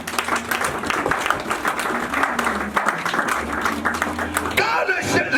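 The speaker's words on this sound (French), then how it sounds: "Acclame, acclame, acclame." A church congregation applauds steadily and loudly throughout, dense clapping with crowd voices mixed in.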